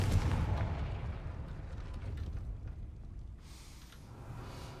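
A Confringo fire spell explodes in the video game Hogwarts Legacy: one loud, deep blast right at the start that rolls off into a fading rumble.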